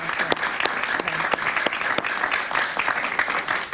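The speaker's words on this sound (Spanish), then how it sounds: "Está con nosotros Belén Marrero, un aplauso para ella, por favor." A TV studio audience applauds a guest with brisk, close clapping that continues steadily throughout at strong volume.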